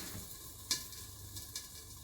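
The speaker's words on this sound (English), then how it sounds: "So the souffle is cooking now" A raspberry souffle pancake cooks on very low heat in a pan, giving a faint, steady soft sizzle with a couple of light clicks or pops, no voices.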